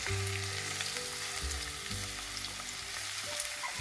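A big onion fries in oil with ginger, green chilli and garlic for a coconut-milk egg curry, giving a steady close sizzle that runs throughout with a few stirring touches, and no voices.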